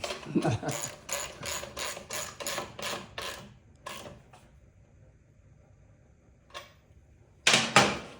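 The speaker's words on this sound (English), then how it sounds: "then we'll tighten down the headlight bolts. I prefer the socket." A socket ratchet tightens the bolts on a 7-inch MotoCult motorcycle headlight, giving a quick run of about ten close, crisp clicks, then a few scattered clicks and a final short burst after a quiet pause.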